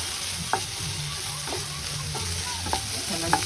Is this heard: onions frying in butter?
yes